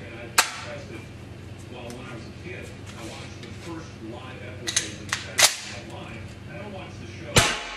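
An FN FAL rifle with wood furniture and metal handguards fires a handful of sharp, cracking shots spread unevenly over several seconds, with people talking in between.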